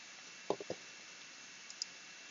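A computer mouse clicks a few times at close range, quick and faint, with a couple of lighter taps following after a short pause.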